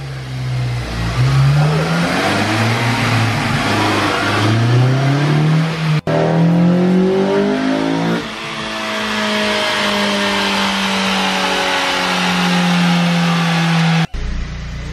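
A Honda Civic Si revs hard on a dyno, its loud engine note climbing steadily through the rev range in two long pulls with a brief break between them and no talking.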